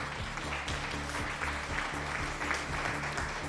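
Faint, continuous clapping sits in the background behind steady tonal game noise, with no voices breaking through.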